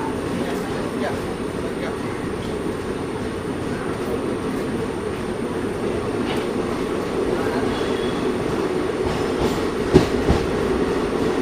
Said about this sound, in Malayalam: കൊയിലാണ്ടിയിൽ നിന്ന് വണ്ടി എടുത്തിരിക്കുകയാണ്